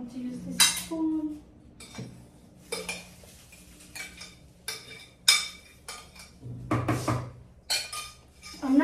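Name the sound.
mixing egg whites for a cake batter in a bowl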